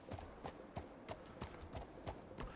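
Horse hooves clip-clopping at a walk in Red Dead Redemption 2, a steady rhythm of soft, fairly faint hoof beats with no talking.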